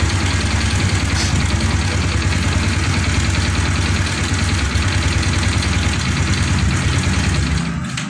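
A Honda motorcycle engine idles steadily up close with a dense low rumble, then dips slightly at the very end as it begins to stall after its battery cable is pulled.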